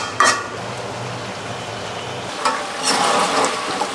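Mutton is stirred and sautéed in a pan, with a steady close sizzle broken by a few louder scraping stir strokes.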